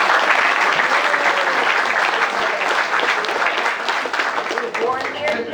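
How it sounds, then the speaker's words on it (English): Outdoor crowd applause at a town tricentennial ceremony, dense steady clapping from a large audience lasting several seconds, fairly loud and close, with no talk over it. "I think we should give them a round of applause."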